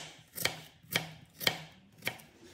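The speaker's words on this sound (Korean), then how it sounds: "배를 깎아 먹겠습니다" A knife working through a pear on a cutting board gives four crisp, evenly spaced knocks up close, with quiet pauses between them and no voices.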